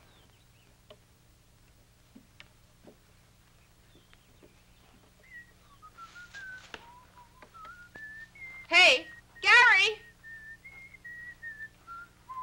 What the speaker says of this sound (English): Would you quit that whistling?